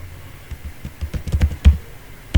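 Keystrokes on a computer keyboard while entering an SQL delete query, a close run of quick irregular clicks with a few louder taps and no talk.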